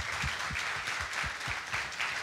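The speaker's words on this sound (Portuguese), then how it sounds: "queria pedir uma salva de palmas aqui para o Marcelo" An audience at a Salvador business conference panel claps for a speaker, a steady patter of many hands at moderate distance that runs throughout with no voices over it.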